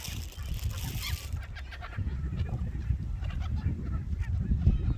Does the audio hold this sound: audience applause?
no